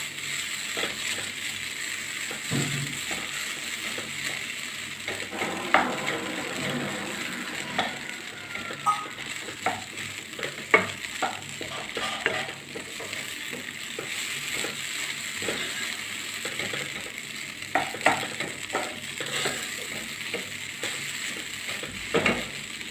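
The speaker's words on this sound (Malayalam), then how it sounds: "ഇനിയിപ്പോൾ സവോള എല്ലാം വാട്ടിക്കഴിയുമ്പോൾ അതിൻ്റെ കൂടെ ഇട്ട് മിക്സ് ചെയ്യാം." Onions sautéing in a pan for a chicken sandwich, giving a steady close sizzle broken by frequent clinks and scrapes of stirring throughout.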